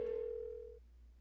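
An unanswered phone call giving one steady electronic ringing tone that holds for under a second and then cuts off, leaving quiet low hum, with no voices.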